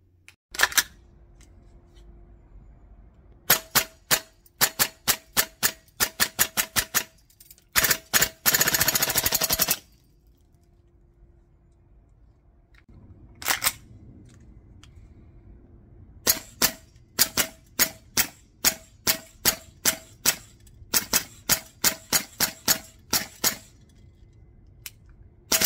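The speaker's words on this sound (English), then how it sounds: "you have a look at these shooting in their normal configuration" A 2023 Tokyo Marui URGI MWS ZET and a 2023 Double Eagle Noveske N4 MWS ZET gas blowback airsoft rifles firing in their normal setup: sharp mechanical cracks in single shots and rapid strings, with one dense full-auto burst, loud and close.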